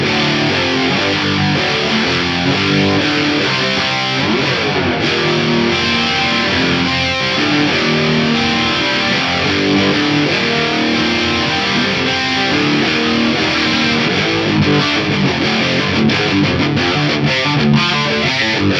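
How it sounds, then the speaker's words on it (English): An electric guitar runs through a BOSS Waza Tube Amp Expander with an SDE 3000 chorus switched on, a continuous, dense, shimmering distorted stream of played notes, loud and steady throughout with no talking. "With the SDE 3000 model, you can switch that on, and now I've got a lovely sounding chorus on here."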